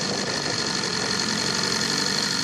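A BMW S1000R motorcycle engine runs at steady, continuous volume throughout, close and fairly loud, with no voices heard over it.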